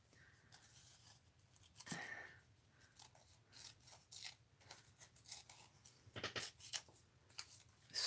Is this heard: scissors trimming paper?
yes